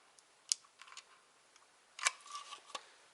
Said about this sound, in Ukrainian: самий приємний момент це знімати ось ці наклейки